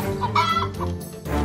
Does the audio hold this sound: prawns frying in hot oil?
no